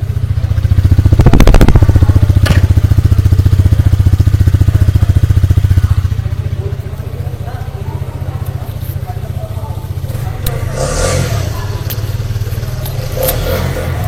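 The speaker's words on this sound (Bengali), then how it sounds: "আর এক্সস্ট নোট তোমরা কিছুটা পাচ্ছ" Hero Karizma XMR motorcycle engine running close by, with a loud rev held for several seconds, then dropping to a lower idle with occasional clatter and a few short blips, and talk in the background.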